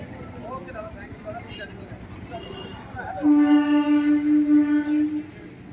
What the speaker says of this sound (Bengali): আর এটাও ট্রেন দাঁড়িয়েই আছে